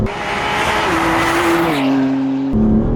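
A BMW M4 Stage 2 tuned on E85 fuel with about 580 wheel horsepower accelerates hard, its engine droning loudly through rising gears with a brief shift break, tires squealing as the rear squirms, heard from close inside.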